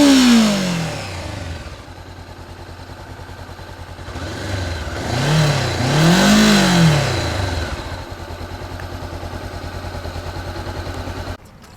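Honda CB500XA motorcycle engine running with a quiet exhaust, revved up and down twice before settling back to a steady idle, close and alone.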